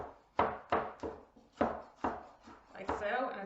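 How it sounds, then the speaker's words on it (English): Tomatoes chopped with a big knife on a chopping board, seven or so distinct close knocks of the blade hitting wood at an uneven, fairly quick pace, with no talking. "I'm going to push down and cut the tomatoes"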